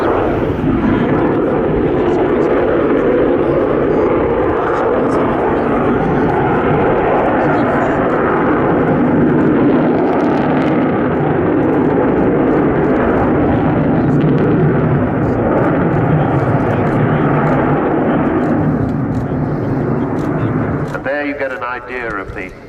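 An Avro Vulcan XH558 bomber roars overhead in a loud, continuous, rumbling jet blast that holds steady before fading slightly at the end, with someone narrating over the engine noise.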